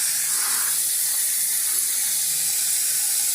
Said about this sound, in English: so now we're washing the hair.